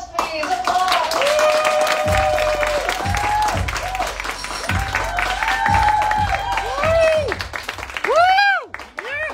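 A studio audience at a live MTV pop culture show claps and cheers on cue, steady loud applause with bright whoops rising over it and a voice chiming in near the end.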